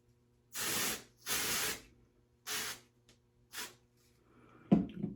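Four quick bursts of spray hiss from a pump bottle sprayed into a wig, evenly spaced in a quiet room, followed by a faint handling clatter.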